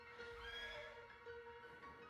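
A horse whinnies in a long, wavering neigh over a steady background hum, continuous and fairly clear throughout, in the video game Shadows Over Loathing.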